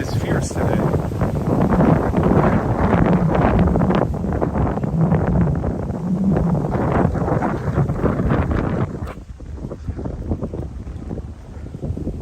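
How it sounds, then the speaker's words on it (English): Strong, fierce wind buffets the microphone at the Copenhagen harbor waterfront, a loud continuous roar with gusty rumble throughout, easing briefly near the end. "Wow, the wind is fierce today."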